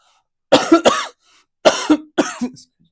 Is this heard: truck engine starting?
no